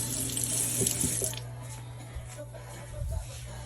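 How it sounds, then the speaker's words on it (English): A kitchen tap left running while iced coffee is being made, water pouring steadily into a sink, louder and splashier at first and then settling into a softer, continuous flow. "Oh, I left the water on."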